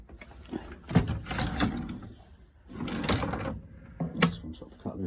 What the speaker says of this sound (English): This one's got the cutlery drawer on it, so literally just click these, lift these up, pull out.